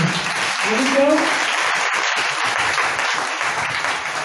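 A church congregation applauds and acclaims Jesus, a loud, dense wash of clapping and cheering that holds steady throughout, with a voice briefly audible near the start.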